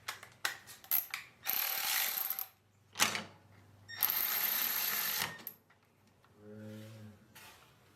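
Bolting a GrassFlap H5L hand lever in place with 5/16 carriage bolts: close, irregular metallic ratcheting and clicking in bursts separated by short pauses, with no talk.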